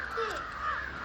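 A crow caws a couple of times, harsh and fairly close, with no other sound around it.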